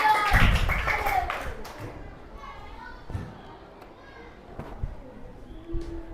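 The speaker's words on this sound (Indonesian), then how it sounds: "Oke, tepuk tangan buat kita semua." Primary schoolchildren in a classroom clap together in a short loud burst that quickly fades, followed by scattered taps, thumps and children's voices in the room.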